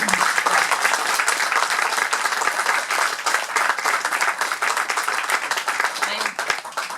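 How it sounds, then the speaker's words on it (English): An audience at a talk on the book Bead Bai applauds the author with steady, dense clapping that lasts the whole clip at an even level, with voices faintly beneath. "So we applaud you, Sultan, for having writing this"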